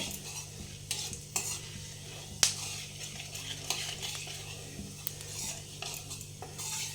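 Panch phoron spices stirred in hot oil in a pan: a soft continuous sizzle with a spoon scraping and tapping against the metal at irregular intervals, one sharper clink standing out, close and fairly quiet.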